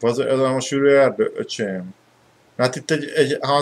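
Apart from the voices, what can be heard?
No distinct noise like a dog, phone or traffic.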